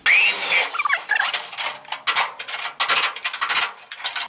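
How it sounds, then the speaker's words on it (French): Spot welds are drilled out of a Citroën Traction 11B steel body shell: harsh, gritty bursts of drill-on-sheet-metal grinding, close and loud, starting and stopping in uneven stretches with short pauses, no talking. "je trouve au fur et à mesure les points que je perce toujours"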